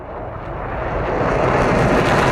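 An F-16 Viper jet taking off in the DCS flight simulator, its engine a broad, steady roar that swells gradually louder throughout, with no pauses or other sounds.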